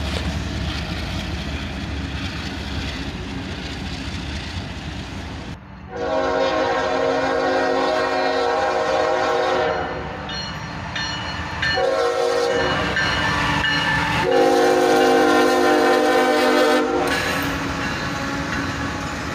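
A Union Pacific freight train rumbles past, then sounds long loud horn blasts in two main bursts with brief gaps between them, over rolling wheel noise.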